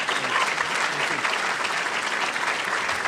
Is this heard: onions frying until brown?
no